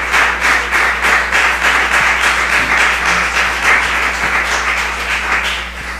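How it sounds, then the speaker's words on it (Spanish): A church congregation claps in steady rhythmic unison, a loud, sustained applause with a regular beat and a low continuous hum underneath. "Bríndele ese aplauso con más fuerza al Señor."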